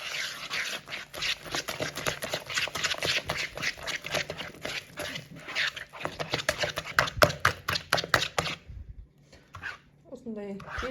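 Pancake batter whisked by hand in a bowl, rapid rhythmic clicking and sloshing strokes close up for most of the stretch before stopping, with a voice speaking throughout.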